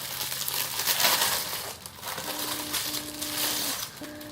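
Packs of slim transparent plastic folders crinkle and rustle continuously as they are handled up close, a loud, steady crackling with a faint tonal hum underneath.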